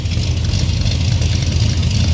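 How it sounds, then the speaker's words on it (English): A steady, deep idle from a 1967 Plymouth GTX's 440 V8 rumbles close by, loud and even with a low throaty drone and no voices. "Come around back, you can hear the 440 rumble."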